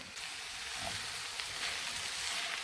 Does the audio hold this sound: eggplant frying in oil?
yes